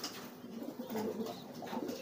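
Soft, low cooing from a pair of very young pigeons, a few gentle throaty warbles repeating over a light background hiss.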